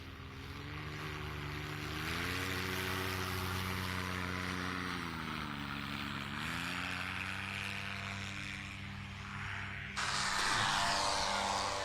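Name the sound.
STOL competition propeller airplane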